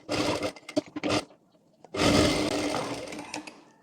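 Sewing machine stitching a side-pleated kurti, short bursts of rapid whirring stitches followed by a longer continuous run, close and fairly loud.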